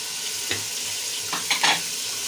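A spoon scrapes and stirs chicken with red chili powder, salt and turmeric in a hot pan, over a loud, constant sizzle, with a few distinct scraping strokes near the end.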